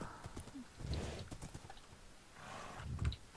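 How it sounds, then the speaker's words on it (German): A horse in the video game Minecraft makes faint hoof clip-clops and soft snorting sounds, in two short bursts over a low game background with no talk. "Hey Pferd, jetzt habe ich kein Seil mehr für dich."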